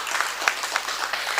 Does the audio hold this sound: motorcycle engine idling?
no